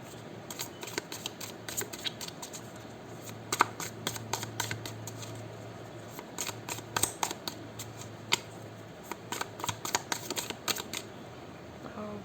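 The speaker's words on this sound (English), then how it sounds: "It's a little hard to shuffle these cards." Rapid papery riffling and soft flicking bursts of cards being shuffled, close by, repeating in short clusters over a low background hum.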